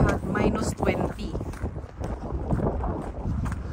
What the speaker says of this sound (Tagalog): ang panahon ay medyo mahangin